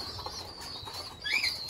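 Pigeons beating their wings at a home loft, a short soft flutter of flapping with a brief bird call near the end, no talk.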